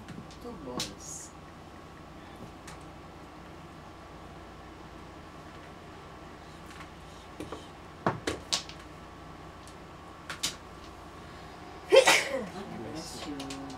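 A single sharp sneeze bursts out near the end, louder than the quiet indoor room noise, after several brief clacks and knocks, during a mahjong game with air conditioning running.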